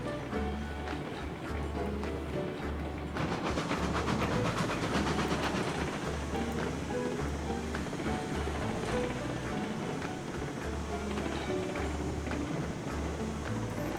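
A locomotive in a video game runs along with a steady, rhythmic low clatter of wheels, loud and continuous throughout, with a busier wash of sound layered over it in the middle.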